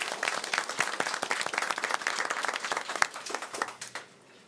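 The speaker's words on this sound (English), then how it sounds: "Let's give them one more round of applause." Audience at a Pitt County Schools board of education meeting gives a round of applause, dense clapping from a modest crowd that tapers off toward the end.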